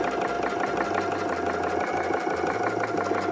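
A sewing machine stitches a seam of fabric for a DIY purse, a fast, even mechanical whirring with a low pulsing motor hum running close and steady throughout.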